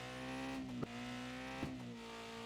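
Engine of a car drifting in the CFSS 2023 racing game, a steady droning hum with two brief clicks or bumps, fairly quiet and not changing in pitch.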